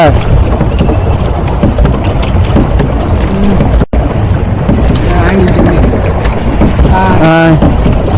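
A boat at Sittanavasal moves across the water with a loud, constant wash of water and wind rush close to the microphone. Voices and a brief tonal call rise near the end.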